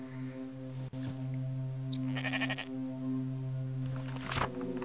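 Sheep bleating in the horror game The Quivering: a sustained, wavering, nasal animal cry that holds steady tones for several seconds, fairly loud and close, with a brief higher squeal partway through and no talk.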